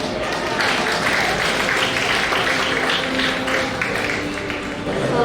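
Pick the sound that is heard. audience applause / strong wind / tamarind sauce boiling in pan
audience applause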